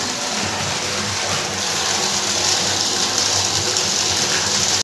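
Water gushes from the 1.5-inch delivery pipe of a 3000W BLDC borewell pump drawing from a 460-foot bore: a loud, steady, unbroken rush of flowing water with no voices.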